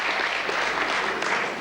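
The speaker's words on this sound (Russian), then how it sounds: "Хлопайте." Continuous, dense clapping from an audience at a 1995 school graduation party, steady and fairly loud for the whole moment.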